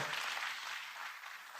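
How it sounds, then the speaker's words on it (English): An audience gives a round of applause at a venture capital investment ceremony, a steady, even wash of clapping with no voices over it. "can we give them a round of applause here?"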